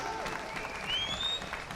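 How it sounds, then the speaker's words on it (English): Audience at an end-of-march Palestine rally applauding, a steady wash of distant clapping with a whistle rising over it, faint and continuous throughout. "Yes, salute him, applaud him."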